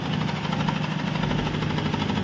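A generator engine, waterlogged and producing very low voltage, runs steadily with a continuous low mechanical drone and vibration at close range, with no voices.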